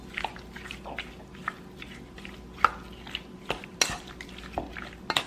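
Onion powder and Montreal steak seasoning get stirred together for fajitas, a utensil clinking and scraping against a bowl in scattered, quiet taps and louder clacks.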